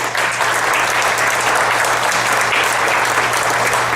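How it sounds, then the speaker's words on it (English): Steady audience applause fills a political meeting of Tea Party supporters in Redlands, an even wash of clapping lasting about four seconds with no break and no voices standing out. "give yourselves a round of applause for being here"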